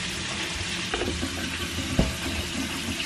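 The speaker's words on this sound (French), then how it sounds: "Donc je fais ma vaisselle, désolée si vous entendez du bruit." Dishes being washed in a home kitchen sink, with continuous running water and splashing and a few close clinks and knocks, one sharp clatter standing out, with no talking.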